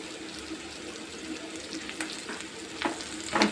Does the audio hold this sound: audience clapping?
no